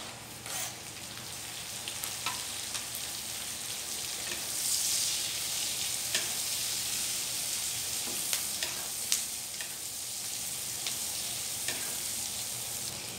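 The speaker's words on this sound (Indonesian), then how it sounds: "sekarang aku masukkan daun jeruk, daun salam, serai, lengkuas dan cabenya. Ini masak sampai matang." Lime leaves, bay leaves, lemongrass, galangal and chilies sizzle and fry steadily in hot oil for an Indonesian anchovy sambal, a continuous crackling hiss with occasional stirring scrapes and no talk.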